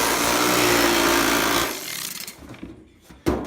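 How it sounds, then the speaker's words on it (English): An electric hammer rapidly pounds sheet metal into a transition piece for a heating coil fan, a loud dense buzzing rattle that runs for over a second, then cuts out, followed by a few scattered metallic knocks. "It's an electric hammer."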